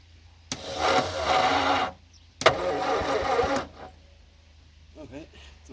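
An abandoned Morris Minor's engine is cranked over by the starter in two loud, close bursts of about a second each, separated by a short pause, without catching; a voice speaks faintly afterward.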